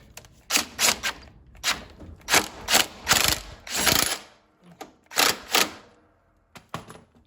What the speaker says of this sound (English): We can go ahead and tighten up with the 19 millimeter.